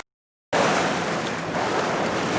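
A Sigma 36 sailboat under sail at sea: after half a second of silence, steady rushing water along the hull and wind noise on the microphone roll in close and loud, with no talking.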